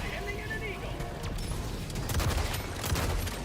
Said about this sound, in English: As you can see, explosions happen.